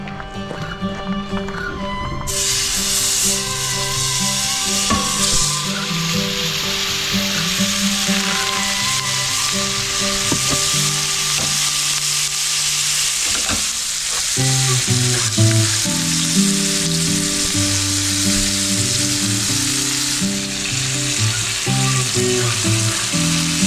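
Food sizzles in a pan with butter and rosemary at a forest campsite, a loud constant frying hiss with stirring sounds, under background music.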